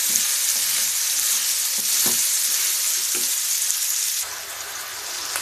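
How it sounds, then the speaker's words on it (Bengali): Carrot, tomato, capsicum and spring onion sauté with salt in a hot pan, giving a loud, steady sizzle with intermittent scrapes and stirring clatters; no one speaks. "এখন এটাকে আমি একটু লবণ দিয়ে ভালো মতো কষিয়ে নিচ্ছি"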